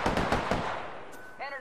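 Rapid bursts of automatic gunfire in a shooter video game, several quick sharp shots followed by a short electronic tone.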